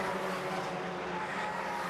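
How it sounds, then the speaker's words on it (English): A Volkswagen Golf GTi race car with a remapped engine and upgraded exhaust roars steadily close by at Silverstone, a continuous throaty exhaust drone filling the whole moment without letting up. "That was the upgraded exhaust."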